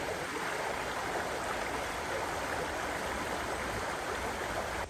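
A small stream runs over rocks on Dartmoor near Okehampton, a steady, unbroken rushing wash of water heard close and alone for the whole stretch.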